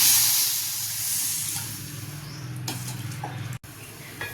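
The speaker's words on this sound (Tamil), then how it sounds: "குழம்பு நல்லா கொதிச்சிச்சு" A pot of chana dal dumpling curry simmers quietly on the stove, a soft steady hiss of steam and bubbling with a faint clink near the end.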